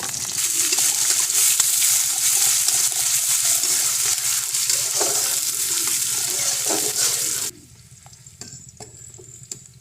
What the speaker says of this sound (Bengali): এখন এর ভিতরে আমরা 1 কাপ মতো পেঁয়াজ কুচি দিয়ে পেঁয়াজটা বেরেস্তা করে